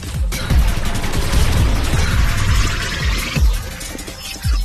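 Rapid gunfire in the VR game Citadel in Meta Horizon Worlds, loud repeated shots in quick bursts with a pitched electronic sweep between them.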